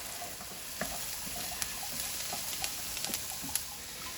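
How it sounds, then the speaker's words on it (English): Rough chopped garlic sauteing in butter with mirepoix, a quiet steady sizzle broken by several light stirring taps and scrapes spaced across the moment. "let's go ahead and add our rough chopped garlic."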